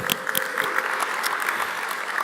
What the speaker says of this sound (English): Give a round of applause for yourself.